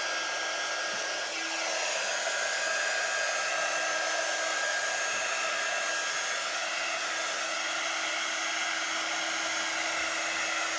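A hair dryer blows steadily on painted artwork on plexiglass, a constant close whirring hiss with a fixed motor whine that runs without a break throughout.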